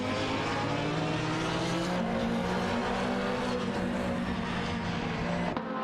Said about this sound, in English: Obelixamax and Sarayanbot are behind the wheel of a Subaru Impreza GT300, while Twitch 5D is maneuvering a Lamborghini Gallardo GT3